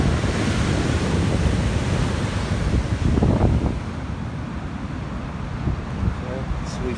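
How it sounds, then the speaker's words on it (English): Ocean waves wash and roll against the shore by a small trench in the water, a steady loud surf roar mixed with heavy wind buffeting the microphone that eases off in the last few seconds. "Look at these waves."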